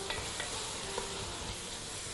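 Garlic and onion sizzle steadily in a frying pan, a continuous close crackle with faint stirring scrapes and no voices.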